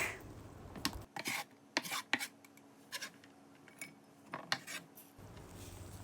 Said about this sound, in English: Mince the garlic.